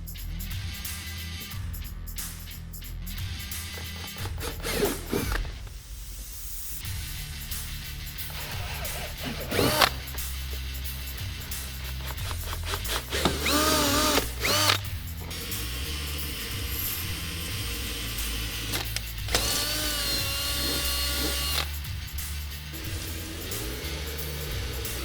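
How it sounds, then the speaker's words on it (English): A power drill with a 5/16 bit whines loudly and continuously, its pitch rising and dropping as it bores holes for fender guards on a Polaris Ranger XP 1000, with short pauses between holes. "Now we're going to take a 5/16 drill bit on our drill and drill each of these holes here"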